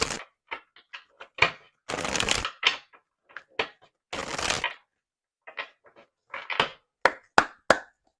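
A deck of oracle cards being handled and shuffled up close, with sharp taps and snaps between two longer riffling bursts, then quicker clicks of cards toward the end.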